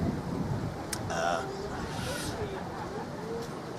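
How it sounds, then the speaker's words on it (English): Steady broadband wind noise blows across the microphone outdoors in Bali throughout, with a brief louder gust early on. "You can probably hear the wind in the background."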